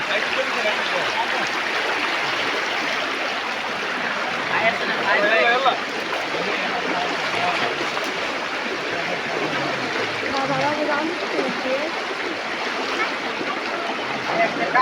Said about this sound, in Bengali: দক্ষিণ দিক দিয়ে পানি আসতেছে, উত্তর দিকে যাচ্ছে বাড়ির মধ্যে দিয়ে।